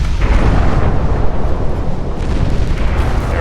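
Warship guns firing in the naval battle game Ultimate Admirals: Dreadnoughts, a dense, continuous rumble of heavy cannon blasts and explosions running together loudly throughout.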